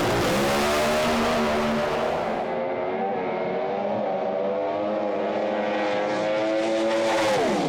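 Drag racing car roaring down the strip at Sydney, a loud engine howl with falling pitch as it passes and fades, then rises again near the end, no voices over it.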